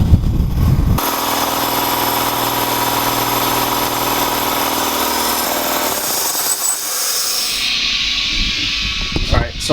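Ingersoll Rand SS3L3 air compressor, freshly rebuilt, running loud and steady as it builds pressure, a continuous mechanical drone with rattling that shifts and thins toward the end.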